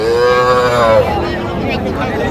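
A heifer calf moos loudly and close by, one long drawn-out call that wavers in pitch.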